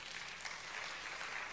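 A church congregation clapping after a sermon line, a steady, even wash of applause held at a soft, distant level for a brief moment with no voices over it.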